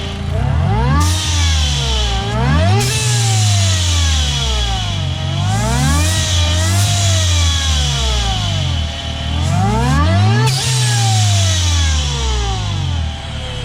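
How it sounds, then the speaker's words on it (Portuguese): Ford Ka engine fitted with a supercharger, running and revving up and down in repeated loud sweeps, with a hissing valve venting air over the engine note. "dá para ouvir o Supercharger funcionando e a válvula também"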